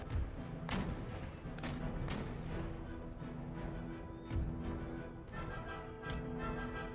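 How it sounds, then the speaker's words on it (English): Artillery guns fire in the Empire Total War strategy game, a series of deep booming shots at irregular intervals, some near and some farther off, with a steady low battle rumble between them. "So my guns are going to focus on the enemy artillery and the provincial cav behind them"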